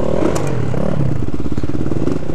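A group of supermoto motorcycles riding together, engines droning and revving close by with rattly, clattering texture throughout.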